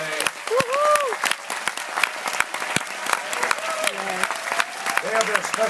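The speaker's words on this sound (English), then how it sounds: "They have a special cheering section over here." Audience applause fills a summit keynote hall, a dense, sustained clatter of clapping from a large crowd, with a voice speaking over it.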